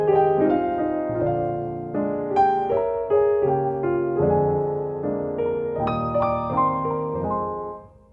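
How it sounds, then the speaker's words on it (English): Piano playing slow stride chords, each one rolled upward from bass to treble in a steady, unhurried rhythm, loud and close with no voices. "we're going to roll out the chords"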